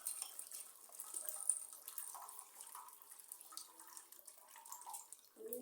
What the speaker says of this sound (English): you have to sieve, you have to like let it pour slowly